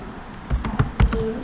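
Quick bursts of typing on a computer keyboard, a handful of close, crisp key clicks in an irregular cluster over a second or so.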